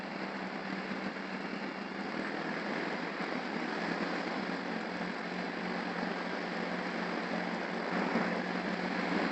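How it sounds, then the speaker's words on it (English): Heavy rain pours steadily in Cameroon, a dense, even hiss that stays loud and unbroken from start to finish with no voices. "Man, it's raining. It's raining here,"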